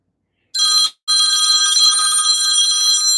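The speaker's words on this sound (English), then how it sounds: "Can you believe my phone's ringing?" A mobile phone rings loudly and close, a bright electronic ringtone with a short break near the start before it sounds continuously.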